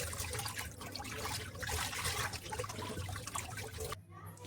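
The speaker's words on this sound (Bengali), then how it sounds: "মাছগুলো আমি ভালো করে জল দিয়ে পরিষ্কার করে নেব।" Bata fish are rinsed under water, a close continuous splashing and trickling with soft rubbing, fairly quiet, stopping abruptly near the end.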